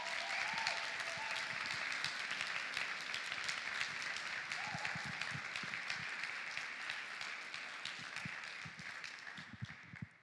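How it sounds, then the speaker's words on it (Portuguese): Sustained applause from a church congregation at a special worship service, steady and dense clapping filling the whole stretch, loud and continuous, easing slightly toward the end. "Vocês podem aplaudir Ele."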